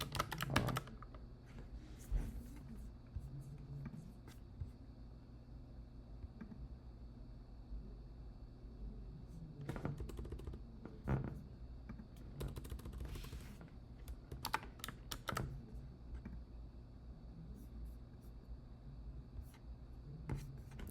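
Typing on a computer keyboard while coding, steady clusters of key clicks with a few louder bursts across a quiet room, no speech.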